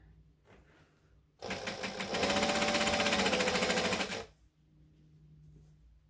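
A sewing machine stitches a Christmas tree skirt in one steady, loud burst of about three seconds, rapid needle clatter and motor whir close up, with quiet room tone before and after.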